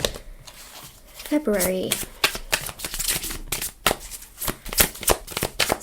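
Playing cards are handled and shuffled in quick riffling bursts and crisp slaps beside a single talker who speaks over much of the shuffling.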